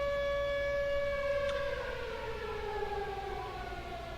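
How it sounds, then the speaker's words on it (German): A loud civil-defense style siren holds a steady, piercing tone, then glides gradually downward in pitch. It sounds alone, with no talking. "die Sirene ist so laut"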